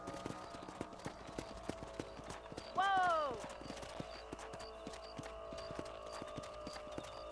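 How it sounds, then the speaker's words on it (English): Horse hooves in the video game Red Dead Redemption clip-clop in a steady rhythm, with a brief whinny partway through, all under a quiet game background. "Let's get back on the horses and see what else is going on."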